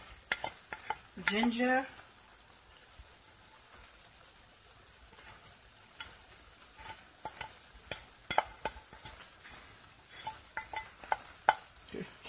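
Eggs being mixed with spices for Tunisian ojja, a scattered run of soft clicks and scrapes against the bowl at an uneven pace, with a brief louder burst early on.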